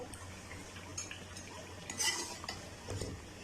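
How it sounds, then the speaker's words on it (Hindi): A spoon is turned carefully through soft potatoes cooking slowly in a karahi over low heat, giving faint scraping and stirring with a couple of light clinks against the pan, quiet and close with no talking. "आराम से हमने बहुत ही केयरफुली जो है वो चम्मच को जो है घुमाना है"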